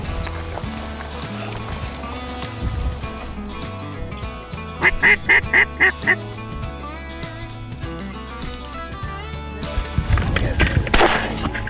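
Mallard ducks quack during a winter waterfowl hunt in Washington, a run of nasal quacks in short clustered bursts over a busy background, fairly close and loud.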